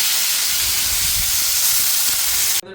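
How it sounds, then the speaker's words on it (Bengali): Potatoes frying in hot oil with whole cumin seeds and green chillies, a steady close sizzle and hiss running throughout and cutting off abruptly at the end. "তার জন্য আমি ফোড়নে দিয়েছি গোটা জিরে আর কাঁচা লঙ্কা, আলুগুলো দিয়ে দিয়ে ভেজে নেব।"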